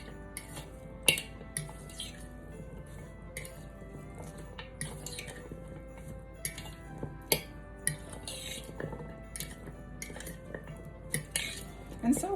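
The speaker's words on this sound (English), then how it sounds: "We'll stir so that the carrots are nicely coated." A spoon scrapes and clinks repeatedly against a pot while carrots are stirred in a honey maple glaze, with irregular close metallic taps and soft wet squishing through the whole stretch.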